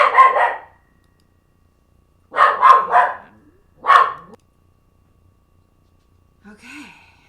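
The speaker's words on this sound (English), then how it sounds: "my dog goes off when he hears a neighbor dog barking outside like that" A dog barks in loud, close bursts, one bark, then a pause, then a quick double-bark run and another single bark, followed by a faint whine or sigh at the end, with silence between.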